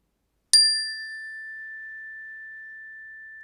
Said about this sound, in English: Selfie is ready to play his favorite instrument, the chime